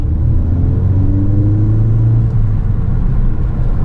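A Ford Focus ST engine rumbles loudly from close up, its pitch rising and holding as it revs, a deep growl with no voices.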